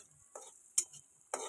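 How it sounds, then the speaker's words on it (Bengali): Onions fry in a pan with a soft, steady sizzling hiss, broken by three short scraping stirs of a spoon, close and fairly quiet, with no talking. "তো পেঁয়াজ লাল লাল করে ভাজা হচ্ছে"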